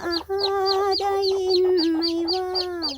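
A chicken clucks and warbles continuously up close, a stream of rising and falling calls with short breaks, loud and clear with no talking.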